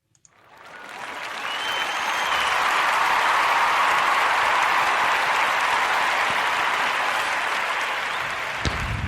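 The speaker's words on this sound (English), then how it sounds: "Let's give a round of applause." A sustained round of crowd applause swells up quickly and holds dense and loud for several seconds, then cuts off abruptly.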